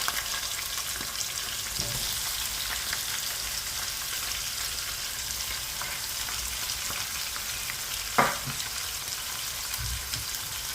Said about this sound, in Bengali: আর এখন আমি পেঁয়াজটা দিয়েছি, যেহেতু এটা আমি রোস্টের মতো করে নেব